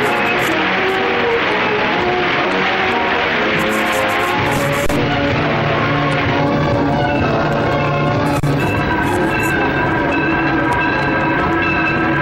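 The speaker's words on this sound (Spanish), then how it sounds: "Luego, el tren avanza hacia otros buzones." An electric ore train from 1911 at the Braden Copper mine, hauling twelve 25-ton railroad cars: loud, continuous rolling rumble with clanking metal and rhythmic wheel clatter, steady throughout with no talk.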